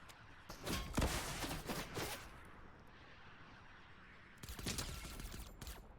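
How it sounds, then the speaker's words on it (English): Rapid rocket launches and blasts from RPG fire in a shooter video game, a loud cluster of booming shots with rumbling tails, a pause, then another burst of explosive fire. "But we can just RPG spam him out of that."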